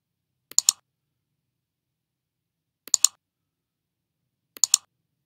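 A computer mouse clicks three times while someone works in Photoshop CC 2017. Each one is a quick, crisp double click, quiet and close, separated by long silent gaps.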